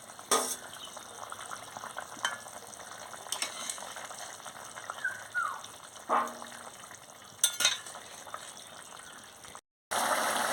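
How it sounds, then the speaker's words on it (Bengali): Rupchanda fish curry bubbles in a pot, a quiet steady simmer broken by a few sharper clinks and stirring sounds. "মাছটা দিয়ে ভালো করে ফুটিয়ে নেব"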